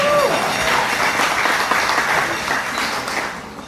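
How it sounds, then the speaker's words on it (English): Audience applause at an economic revival awards dinner, a loud, dense roomful of clapping that carries on steadily and eases slightly toward the end. "Let me have a round of applause, please."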